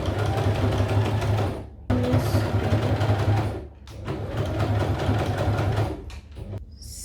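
A domestic sewing machine top-stitches a trouser fly in three steady bursts of fast, loud mechanical whirring and needle chatter, separated by short pauses and ending with a few brief stop-start stitches.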